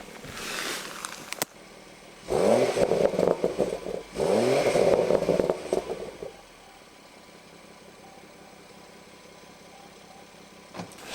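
A BMW M140i with a completely standard exhaust revs twice in sharp, rising bursts close by, then settles back to a steady idle.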